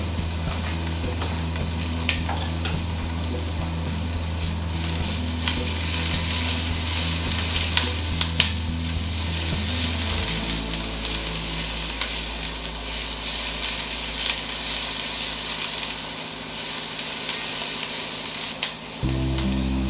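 Chopped onions and garlic sizzle and fry in a pan, a steady close hiss with occasional stirring scrapes; a low hum shifts partway through.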